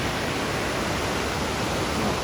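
Rushing river water flowing beneath riverside houses in rural central Japan, a steady broadband roar that stays loud and unbroken throughout, with no voices.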